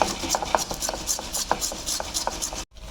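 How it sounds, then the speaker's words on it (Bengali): Boiled potato is rubbed and mashed by hand for a prawn chop, giving quick, rhythmic rasping scrapes, close and fairly loud, ending in a brief pause. "আলুটাকে এইভাবে ঘষে নিচ্ছি"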